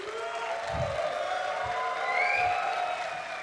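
Cheering and applause from a Future Fest festival crowd, a broad sustained wash with whoops and tonal music or feedback running over it and occasional low thumps.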